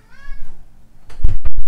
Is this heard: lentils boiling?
no